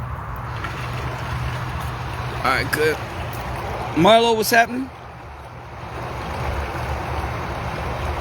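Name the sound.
hot tub water turned back on, running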